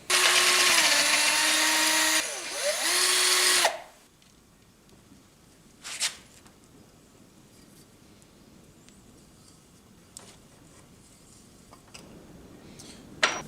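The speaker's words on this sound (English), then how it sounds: "we can go ahead and drill this hole with this bit" A drill bit bores a hole in a metal blow-off valve plate for a GT turbo, one loud sustained whine of nearly four seconds that dips in pitch midway and then stops, followed by a few faint clicks and taps.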